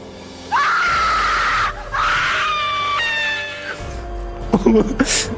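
A piercing, wavering shriek rises and falls in drawn-out bursts, harsh and eerie like a screaming witch, ending with sharp fluttering cries.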